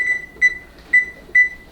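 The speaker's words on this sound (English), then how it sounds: "Put your timer on." A kitchen timer being set gives four short, bright electronic beeps at an uneven pace, close and clear against a quiet background.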